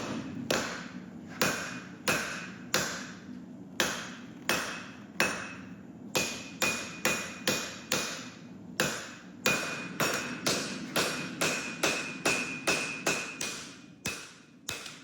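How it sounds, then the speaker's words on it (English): A hand hammer strikes sword steel on an anvil in a steady, ringing rhythm, dozens of sharp blows close by, with a brief pause midway, forging a dao blade tip and edge bevels. "I'm hand forging the tip and refining the edge bevels."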